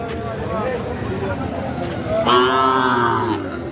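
A Sahiwal bull at a busy cattle market gives a loud, drawn-out moo lasting about a second, rising above a steady background of crowd chatter and market bustle.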